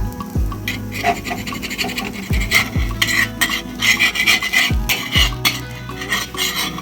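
A metal spatula scrapes and rasps repeatedly across an iron tawa while an uttapam is flipped, with close, loud scraping strokes and several low clanks of the spatula striking the pan.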